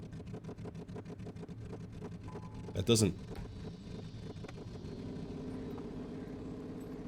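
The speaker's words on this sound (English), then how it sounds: "I think something got a little fucked up with the sound file for the engine." Glitchy engine of a modded Monster Dyipni truck in SnowRunner on PS4, stuttering in rapid regular pulses with a brief louder burst midway; someone speaks briefly over it.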